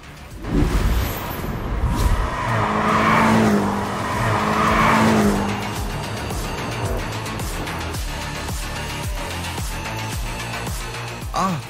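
A BMW M8 passes at speed with a loud, broad engine roar that swells over a few seconds and then settles into a steady rumble, with a brief tire-squeal quality in the mix.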